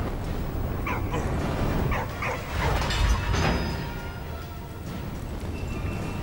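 A dog whimpers and yips in the World War I video game Valiant Hearts: The Great War, several short whines over a steady game soundscape with mechanical sounds.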